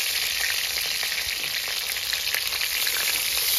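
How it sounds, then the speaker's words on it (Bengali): Pieces of ila fish fry gently in a pan of oil, a steady close sizzle with soft crackles running evenly throughout. "আমি এই মাছটা কিন্তু খুব বেশি কড়া করে ভাজবো না, এই যখন হালকা হালকা করে ভেজে তুলে নিচ্ছি।"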